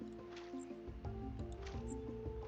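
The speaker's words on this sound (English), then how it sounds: "And we water our plants" Plants being watered from a water skin in the farming game Roots of Pacha, soft squishy liquid splashes and drips over a steady tonal game music bed.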